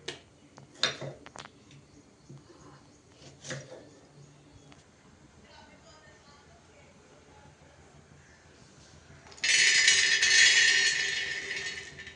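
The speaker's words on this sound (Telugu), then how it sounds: "చట్నీలకు అయితే టమాటాలు కట్ చేసుకుంటున్నాను." Tomatoes are being cut for chutney in a home kitchen, with a few sharp knife taps early on, then quiet, and a loud hissing burst near the end. Someone speaks softly in the background.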